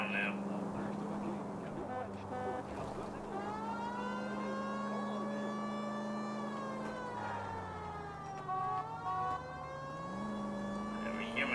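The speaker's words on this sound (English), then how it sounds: "Whenever you hear my siren," A police car siren wails in the video game LA Noire, long sweeping tones rising and falling steadily over a low engine rumble, moderately loud throughout with a brief pitch change near the end.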